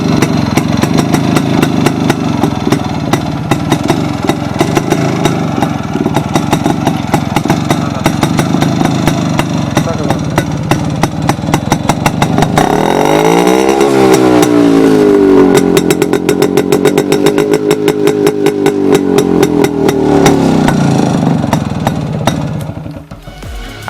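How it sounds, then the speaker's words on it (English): A restored 1995 Jawa Yezdi Roadking 250 motorcycle engine idles with a rapid, loud exhaust thump, then revs up and down mid-way before settling and cutting off at the end. "now let's check out the exhaust note of this bike."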